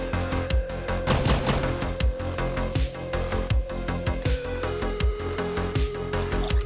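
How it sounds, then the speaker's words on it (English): Video game plasma autocannon in a turn-based mech battle: a rapid, continuous fusillade of sharp, punchy shots over a layered music and effects bed, loud and close, with no talking. "let's go ahead and use your plasma autocannon"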